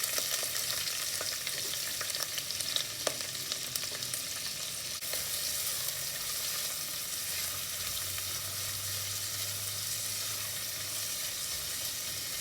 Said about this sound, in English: Stir a minute before you add about 2 large onions.